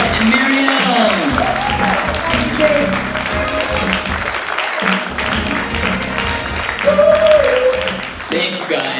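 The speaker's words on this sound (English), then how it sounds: "Round of applause for the gay chorus" Applause for a gay chorus at a celebration event, loud and continuous crowd clapping with voices and cheering mixed in over the top.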